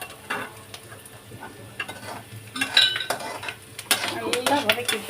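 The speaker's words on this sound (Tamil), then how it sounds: "கருவேப்பிலையும் போட்டு நல்லா வதக்கிடுங்க" Curry leaves sautéing in a pan for a vegetable dish. A spoon scrapes and clinks against the pan in several bursts, and a faint sizzle sits underneath. The sound is close by, with no talking.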